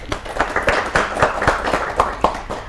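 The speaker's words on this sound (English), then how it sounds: "Give applause to the first group." A classroom group claps for the first group, a short round of light, uneven hand claps from a small crowd, close and fairly brisk for a few seconds.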